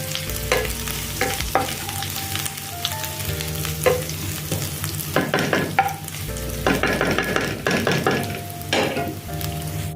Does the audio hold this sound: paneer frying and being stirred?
yes